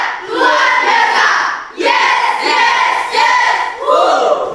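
A group of school participants shouts a rhythmic cheer chant in unison, several loud collective phrases in succession with short pauses between them, voices close and energetic with no other sound beneath.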